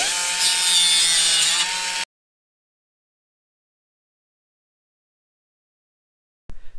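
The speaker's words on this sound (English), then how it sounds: "I'm just going to go ahead with the die grinder here really quickly and just true that up" A die grinder trues up a fuselage frame on a Hawker Typhoon aircraft model, giving a loud, steady grinding whine for about two seconds that stops abruptly into silence, with a faint clatter near the end.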